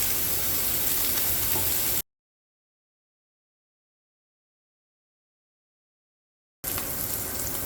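Beef pot roast sears in a hot skillet with a steady, close frying sizzle that cuts off abruptly into a long silence before resuming just as loud.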